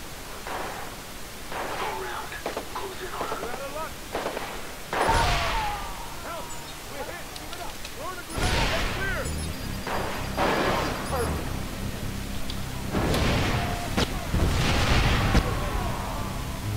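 Several booming explosions burst out in sequence in the video game Watch Dogs, loud and rumbling, over a constant noisy game background with scattered clicks.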